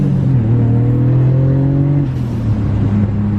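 Turbocharged M50 engine in a BMW E34 pulls hard under acceleration, a loud, steady rising drone with climbing harmonics throughout, close and continuous with no talk.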